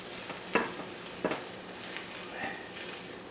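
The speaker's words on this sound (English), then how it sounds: "Our raw kraut or red cabbage is sauteed as well" Raw sauerkraut or red cabbage sautéing in a pan, with faint continuous frying and a few sharp stirring scrapes against the pan, fairly quiet and with no one speaking.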